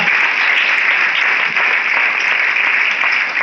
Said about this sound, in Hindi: फिर हमारे great senior, great upline mister Faheem Khan sir के लिए एक बार जोरदार ताली।